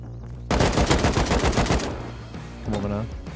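Rapid automatic gunfire in Rust while shooting open a box, a loud sustained burst of closely spaced shots lasting over a second, then a few softer follow-up sounds.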